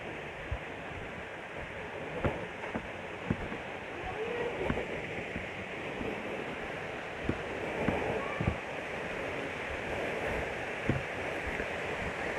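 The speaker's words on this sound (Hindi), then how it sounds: "वाटरफॉल" A hidden waterfall near a cave in Keonjhar rushes with a steady, broadband roar that continues without a break, and a few sharp knocks and bumps sound on top of it.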